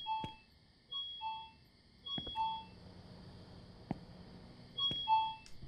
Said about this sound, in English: Is the sixth rat ringing the doorbell?